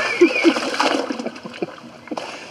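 Pants being washed by hand in water on a motorcycle trip, with a few splashes and sloshing swishes, close and uneven, while someone talks.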